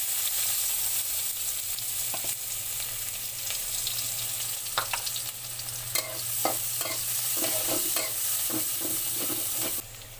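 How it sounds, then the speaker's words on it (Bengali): Onion sizzling and frying in hot oil left in the pan after fish, a steady loud hiss with occasional stirring clatters and scrapes, no voices. "এখন এই তেলের মধ্যে অল্প পেঁয়াজ দিয়ে দিলাম।"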